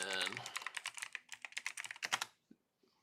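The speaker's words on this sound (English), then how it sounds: "I'm going to type this in." Rapid typing on a computer keyboard, a dense run of close key clicks lasting about two seconds, with a voice heard briefly at the start.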